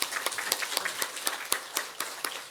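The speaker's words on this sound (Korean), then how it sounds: "우리 박수 한번 하시죠." A church congregation claps together after the choir sings, sounding as a lively mix of many hands with distinct louder claps popping out at irregular moments across the room.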